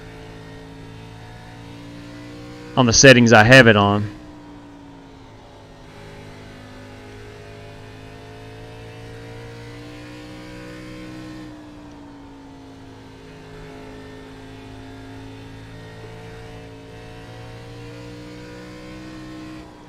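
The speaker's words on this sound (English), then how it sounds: "I'm going to turn up the engine noise a little bit. This is a very quiet car" Simulated race car engine from iRacing at Bristol drones steadily at a near-constant pitch for the full stretch, with a brief loud burst of voice near the start and no further talk.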